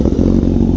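A motorcycle engine is struggling to start on a low battery, and an e85 fuel problem is suspected. Up close there is a loud, rough, labored churning drone that holds steady through the short burst.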